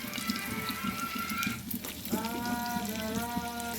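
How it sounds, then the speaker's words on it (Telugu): Onions sizzle and fry steadily in a hot pan with cumin and green chilli, a continuous close crackle with a brief dip midway, and no one speaking. "తర్వాత ఉల్లిపాయలు వేస్తున్నాను."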